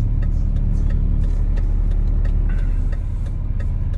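A Mazda 6 with a 6-speed automatic drives in traffic, its engine a steady, smooth, loud low hum with road rumble, heard from inside the cabin without talking.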